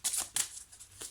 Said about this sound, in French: Alors on va prendre une deuxième carte.